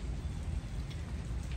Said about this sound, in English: I'm just going to sit out here and listen to the rain and the thunder and enjoy this.